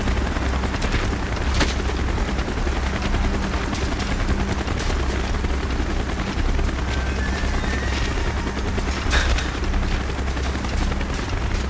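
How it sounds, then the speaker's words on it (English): Helicopter approaching amid gunfire in Call of Duty Black Ops, a loud continuous rotor roar with scattered bursts of shots and booms throughout. "Chopper's inbound! Move it!"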